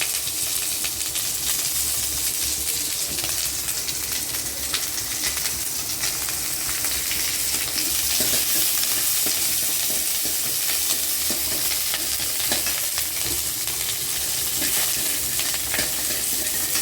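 Chopped onions, green chillies and curry leaves frying in hot oil in a home kitchen, a dense continuous sizzle with occasional stirring scrapes, close and steady throughout, with no voices.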